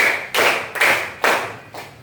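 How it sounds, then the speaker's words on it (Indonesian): Hand clapping during a lesson, four separate sharp claps at an even, steady count, loud and close with brief gaps between each. "tepuk 1, tepuk 2, tepuk 3, tepuk 4."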